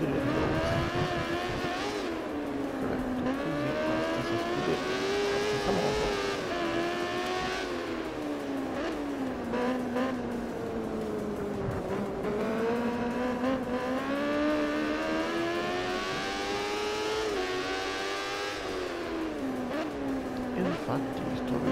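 Moto2 motorcycle engines at Losail in Valentino Rossi The Game, a continuous high-pitched whine that rises and falls through gear changes and revs for the whole stretch, with other bikes droning close by and someone talking over them.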